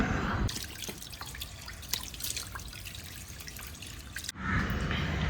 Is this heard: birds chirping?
no